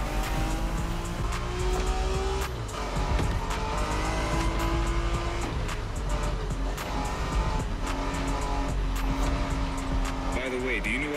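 A sports car roars through The Crew Motorfest racing game, engine steady and loud with tire squeals and gear shifts, while players talk over the gameplay.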